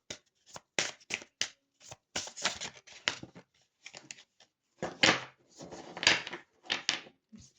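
Oracle cards shuffled by hand in a string of crisp riffling bursts separated by brief pauses, close and fairly loud, with no talking.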